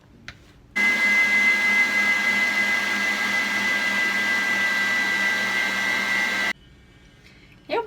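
An electric mixer beats gluten-free, lactose-free, sugar-free chocolate-coconut party cake batter, a steady loud whirring with a sustained tone for about six seconds, starting and stopping abruptly, with quiet room noise either side.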